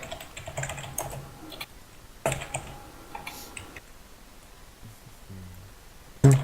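Chat commands are typed on a computer keyboard for a game server, with steady close clicking and tapping keys, irregular bursts and pauses, and a sharp louder keystroke at the end, with no talk.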